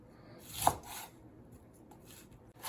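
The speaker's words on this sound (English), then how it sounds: "after I cut it, I'm just gonna finish dicing it up into smaller pieces" Raw salad vegetables being cut and diced with a knife: a single sharp, faint chop stands out in an otherwise quiet kitchen, followed by soft rubbing scrapes.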